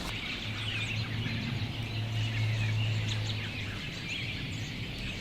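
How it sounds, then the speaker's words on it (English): Hundreds of birds call across the Buffalo River valley in Arkansas in winter, a dense, continuous wash of chirps and twitters from many directions, steady and fairly distant, with a low hum beneath and no talking. "So many birds. I mean, there's like hundreds of birds."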